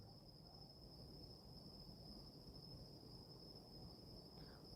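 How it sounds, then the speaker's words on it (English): A steady high-pitched cricket trill continues unbroken over a quiet, noisy background, faint and constant throughout. "I hear crickets in the background."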